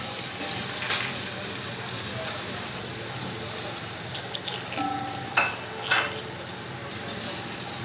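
Whole spices, among them garam masala, cumin, cardamom and cloves, sizzle in hot oil with a continuous crackling hiss while a pan is stirred for aloo gosht. A few metallic clinks of utensils sound near the end.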